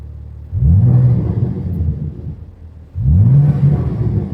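A BMW G80 M3 with an AWE Switchpath exhaust, revved twice toward 3,000 RPM, each blip a loud, deep swelling roar over a steady idle rumble, close up.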